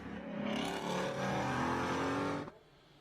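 A field of GT4 race cars on a formation lap at a Canadian circuit, engines droning steadily together at moderate distance for a few seconds before the sound drops away abruptly.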